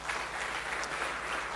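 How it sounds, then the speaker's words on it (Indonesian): A church congregation applauds during a worship service, a dense and steady wash of many hands clapping at once with no talking over it. "Tepuk tangan bagi Allah kita."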